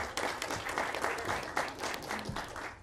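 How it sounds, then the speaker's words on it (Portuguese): Conference audience applauding steadily for about three seconds, a dense even patter of many hands clapping with no voices over it. "Aplausos"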